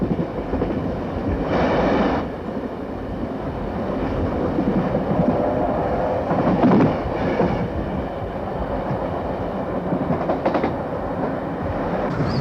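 Steam locomotive 3801 sets out from Sydney on a run toward the Indian Ocean, a steady rumbling roll of wheels and cars with faint rhythmic clatter and a few brief louder bursts, continuous and moderately near.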